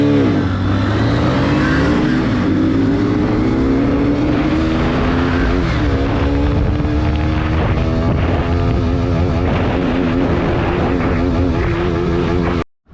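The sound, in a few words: KTM RC 125 and Hero HF Deluxe motorcycles drag racing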